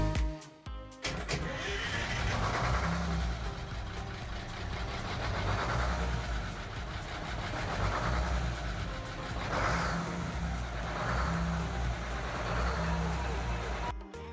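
The starboard engine of a neglected 40-year-old yacht, its starter previously frozen, cranks and catches, then runs with a rough pulsing rumble close by that swells and eases in waves before cutting off.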